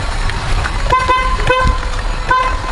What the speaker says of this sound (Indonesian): Kok klakson langsung berhenti?